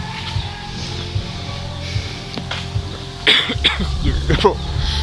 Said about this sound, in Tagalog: Inuubo pa rin po ako